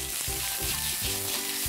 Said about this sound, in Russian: Мы обжариваем курицу так, чтобы у нас появилась такая вот легкая корочка.